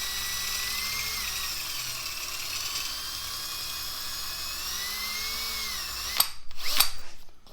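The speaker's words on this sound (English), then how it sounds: "I'm going to carefully drill out this rivet." A steady, high-pitched power drill whines continuously while drilling out a rivet on a truck's wing window, then stops and gives a few short bursts near the end, close by.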